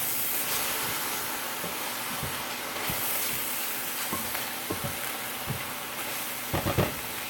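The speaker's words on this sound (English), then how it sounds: "I'm going to put some salt so we could start sweating these veggies down." Sliced squash, onions, green beans, mushrooms and peppers sizzle with salt in a hot pan, a steady close hiss with occasional soft pops and utensil taps, no talking.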